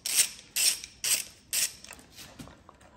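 Long engine bolt being worked loose on a Porsche Boxster 986 during an engine teardown, giving four evenly spaced ratcheting clicks, then softer scattered clicks, close up with no talk.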